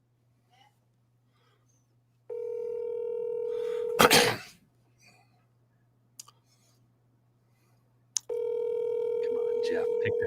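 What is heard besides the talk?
telephone dialing and ringing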